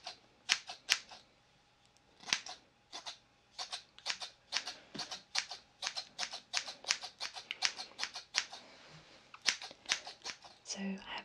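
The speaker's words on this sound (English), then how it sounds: "Okay, so I have my scissors here," Scissors snip steadily during a men's ASMR haircut, quick crisp metallic cuts in irregular clusters, very close and intimate, with a soft voice speaking now and then.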